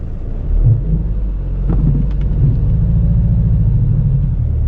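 A car engine hums low and steady from inside the cabin as it moves off uphill at the clutch biting point, a loud continuous rumble with a faint click partway through.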